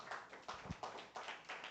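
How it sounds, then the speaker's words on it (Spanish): A church congregation claps in a quick, even rhythm of several sharp, fairly faint strokes, with no talking over it. "damos un fuerte aplauso al Señor"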